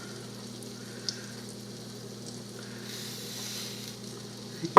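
Steady low sizzle of steak frying in an electric skillet with olive oil, a gentle continuous crackle with a faint hum beneath and a couple of small clicks.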